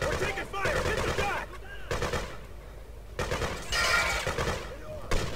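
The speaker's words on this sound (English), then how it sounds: "We're taking fire." Rapid bursts of automatic gunfire crackle through a firefight in the Freedom Fighters video game, loud clustered volleys separated by short lulls, with a voice speaking briefly over the shooting.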